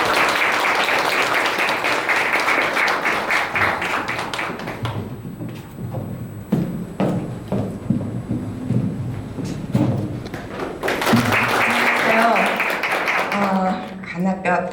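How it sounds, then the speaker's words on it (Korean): A crowd at a Reform Party Seoul branch meeting in Gwanak applauds a speaker, with dense, loud clapping that thins out midway and swells again, and talk heard over the quieter stretch. "여러분 큰 박수 부탁드리겠습니다"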